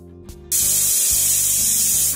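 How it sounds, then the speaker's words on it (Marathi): A pressure cooker on a low gas flame, cooking milky coconut rice, releases its whistle as a sudden loud burst of steam hissing that holds steady for nearly two seconds before easing. "कुकरची 1 शिट्टी झालेली आहे।"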